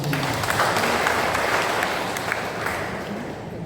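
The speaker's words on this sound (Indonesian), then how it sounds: "Tepuk tangan." A church congregation applauds during a thanksgiving celebration for a priest's tenth anniversary of ordination in Kalasey, giving a dense, steady roar of clapping from many hands that holds throughout and fades slightly at the end.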